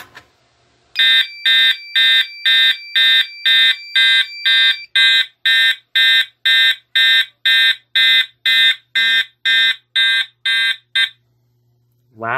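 A FireLite MS-5UD fire alarm panel sounding in march time. A loud, steady series of about twenty-two evenly spaced electronic horn pulses plays on its own, then stops abruptly.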